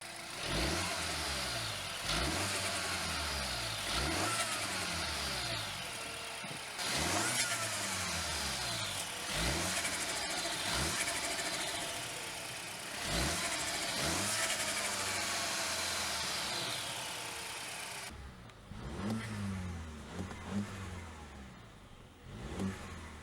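A Mini Cooper S engine fitted with an ITG panel intake filter revs repeatedly, each burst climbing in pitch then falling back, loud and close, with quieter idling blips near the end.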